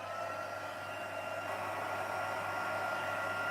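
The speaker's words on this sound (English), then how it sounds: "so we're just going to use our heat tool" A craft heat tool blows a steady, even whir while melting embossing powder on a shaker card, close and constant throughout with no voices.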